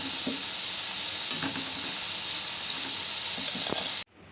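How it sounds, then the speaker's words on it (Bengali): Paneer cubes fry in hot oil in a pan with a constant bright sizzle and a few soft stirring scrapes, then the sound cuts off abruptly near the end. "আলুর পরে এবার আমি পনিরগুলোকেও ভেজে নেব একইভাবে"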